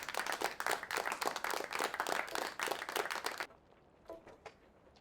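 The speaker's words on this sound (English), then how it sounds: "have some applause" Canned applause effect: a dense crowd of clapping hands, loud and steady for about three and a half seconds, then cut off abruptly, leaving a few faint scattered claps.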